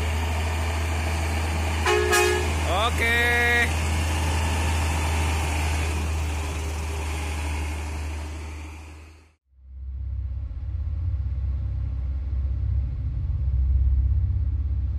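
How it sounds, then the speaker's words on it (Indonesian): Trucks rumble past on a road through the Alas Roban forest in Java, with a steady low traffic drone and a short horn toot early on, then the noise cuts out briefly before resuming. "Banyak truk jalan."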